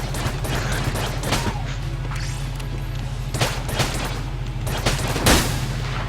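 A machine pistol fires in the game Enter the Gungeon: rapid, repeated gunshots in bursts over a steady low in-game hum, with a heavier boom near the end.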